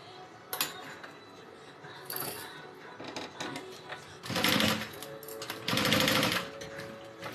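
Sewing machine stitching a rectangle on a Denver backpack by Swoon, close and moderately quiet, in short mechanical bursts with two longer louder runs of rapid needle chatter.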